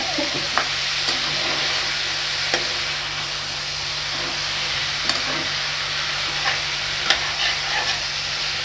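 A spoon stirs fish eggs curry frying in a pan, with a continuous sizzle under scattered scraping taps from the stirring, close up and steady, and no voices.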